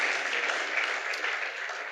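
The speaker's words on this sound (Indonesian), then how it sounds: "Berikan tepuk tangan untuk Tuhan Yesus" A church congregation at a joint worship service applauds, a soft, fairly distant wash of clapping that holds steady for about two seconds.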